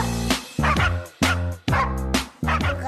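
A dog barks in a rapid series of five or six loud, close barks with short gaps between them on a pet television show, each bark sharp and full, with no talking over it.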